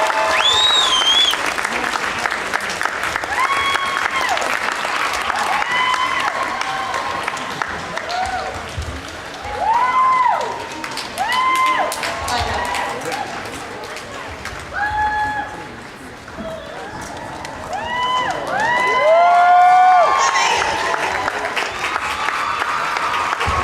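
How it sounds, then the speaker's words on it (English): At the Kumoricon 2013 cosplay contest, a convention audience applauds a group of costumed performers. The clapping is loud and continuous, with excited whoops and squeals, and it swells twice before the end. "please give your round of applause for the best group"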